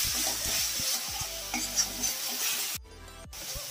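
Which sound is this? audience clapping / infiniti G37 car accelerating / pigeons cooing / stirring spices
stirring spices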